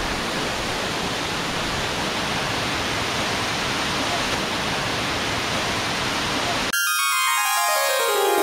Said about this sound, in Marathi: येताच असा मोठा धबधबा दिसलाय ना